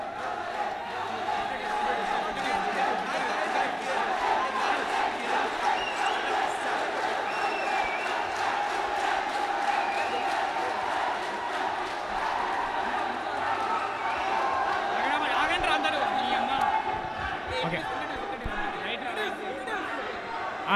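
Audience at a student election debate for a cultural affairs secretary post cheering and chattering, a dense continuous crowd roar with shouts that stays loud throughout and eases slightly near the end.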